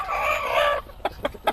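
Black-feathered Cemani chickens and a skittish rooster cluck in an indoor coop, a steady stretch of overlapping calls giving way to a few short, sharp clucks.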